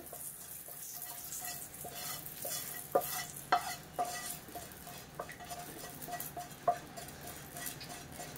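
A spoon scrapes a hot mustard-seed tempering from its small pan into a bowl of mixed chutney. Soft stirring and scraping run under a faint sizzle, with several sharp metallic clinks spaced irregularly.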